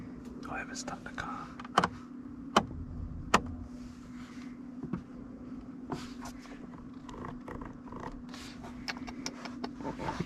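Electric wing mirrors on a Rolls Royce Ghost whir softly in a quiet cabin with the engine off, with a few sharp clicks and taps across the stretch and faint voices murmuring underneath.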